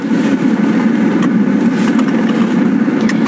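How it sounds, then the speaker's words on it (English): A CNG-powered tricycle engine runs steadily throughout a ride in Nigeria, a continuous loud mid-range hum with constant road rumble and no speech. "A ride in one of these cars is no different from riding in a PMS-powered car."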